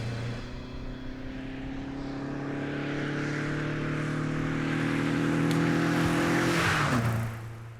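A mid-1990s Caterham Super 7 1600 engine drones steadily and builds in pitch as it accelerates, then drops sharply as the driver lifts off near the end, heard from inside.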